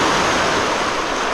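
Rough, agitated ocean surf breaking on a beach at Fernando de Noronha, Brazil, a loud continuous wash of churning water filling the short stretch, with no voices.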